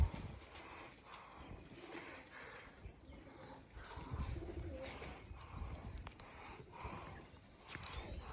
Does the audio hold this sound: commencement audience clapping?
no